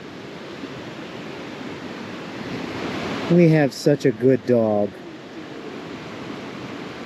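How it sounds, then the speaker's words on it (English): Steady rushing of river water flowing at night beside a campsite, a continuous broadband wash throughout, with a person speaking briefly over it midway. "spending a few hours in a night next to the river and the sound of the water"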